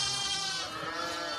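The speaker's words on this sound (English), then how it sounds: "Pedigree, Dutch spotted ewes." Pedigree Dutch spotted ewes bleat in a single sustained, wavering cry, loud and close in a farm pen.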